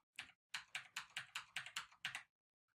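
Computer keyboard keys tapped in a quick run of about eight crisp, close clacks, evenly spaced, with brief silence before and after and no voices.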